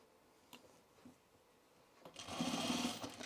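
A sewing machine stitches trouser fabric, starting with a few soft clicks before breaking into a fast, loud mechanical whirr for the last second or so, with no voices.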